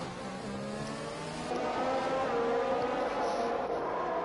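McLaren F1 race cars in a video game race, a sustained high-pitched engine whine that rises as the car accelerates, loud and continuous, with no speech.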